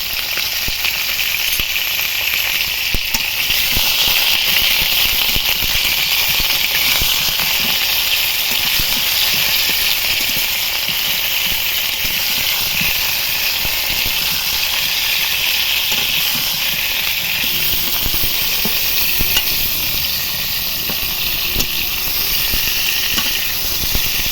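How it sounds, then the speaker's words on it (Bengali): Pointed gourd pieces frying in hot oil with a little salt, a steady dense sizzle and hiss that runs loud and unbroken throughout. "তেলের মধ্যে পটলগুলো দিয়ে দেব সামান্য একটু লবণ দেবো দিয়ে পটলগুলো ভেজে নেবো"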